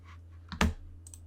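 Computer keyboard keys tapped while a web search is typed, a soft isolated click followed by a sharper cluster of keystrokes, close and quiet with no talking.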